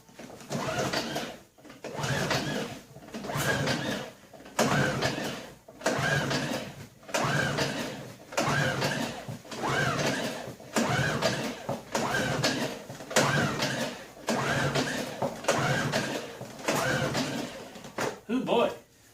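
A Honda EU2000i inverter generator pulled repeatedly by its recoil starter without firing, each rhythmic ratcheting pull rising and falling in turn about every second, with someone talking intermittently over the attempts.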